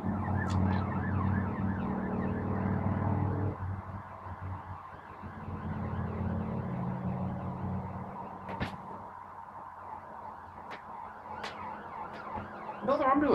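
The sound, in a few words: ambulance siren passing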